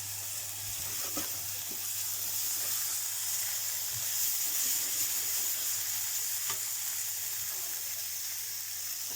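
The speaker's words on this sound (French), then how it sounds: "on va déglacer avec un trait de vinaigre balsamique" A hot pan hisses and sizzles steadily as balsamic vinegar is poured in to deglaze it, making a bright continuous fizz with a few faint clicks and scrapes beneath it.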